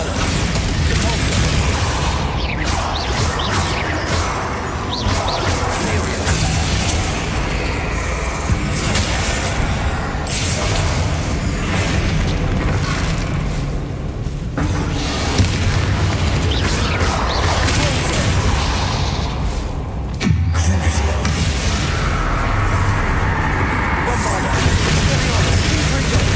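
Bombarda explosion spell cast in a Harry Potter video game while fighting spiders, with dense booming blasts and crackling bursts under continuous game noise and a player talking over it.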